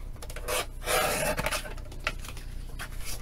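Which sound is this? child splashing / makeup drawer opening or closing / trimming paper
trimming paper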